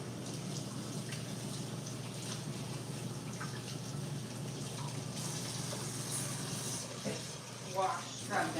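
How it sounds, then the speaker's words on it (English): A kitchen tap runs steadily for hand washing before making meatballs, a constant, fairly quiet rush of water with light handling noises near the end. "I'm gonna wash my hands"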